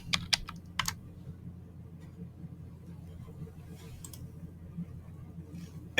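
A computer mouse clicks a few times in quick succession at the start, then sparse faint clicks follow over a quiet room background, with another click near the end.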